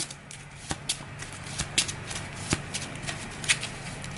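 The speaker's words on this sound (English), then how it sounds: "we'll give that a quick shuffle" Deck of playing cards being shuffled for a card game, close riffling with a series of sharp snapping clicks and soft brushing between them, no talking.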